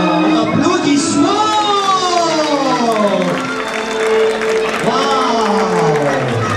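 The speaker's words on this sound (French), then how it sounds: "Applaudissements." Audience applause and cheering at a children's Christmas show, a loud, dense crowd sound running steadily throughout with whoops and voices mixed in.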